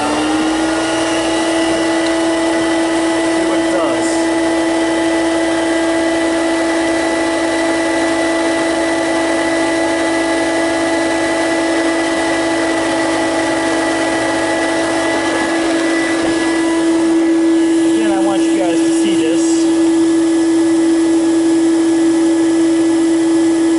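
An Electrolux Guardian Aerus Model 134 vacuum cleaner runs steadily and loudly for the whole stretch, a constant motor whine with a strong tonal hum, briefly shifting in pitch near the end, with no one talking.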